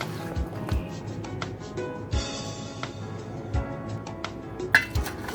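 A mixed vegetable pickle is stirred with spices and mustard oil, giving irregular close clinks and taps of a spoon against the container over a low scraping background.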